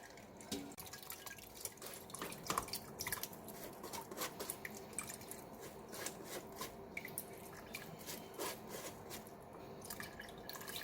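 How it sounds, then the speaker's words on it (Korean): Liquid drips and trickles steadily as perilla seeds are strained a second time through a fine-mesh sieve in a kitchen, with soft wet patters close by and no talk. "좀 촘촘한 채반에 한 번 더 걸러주고 있습니다."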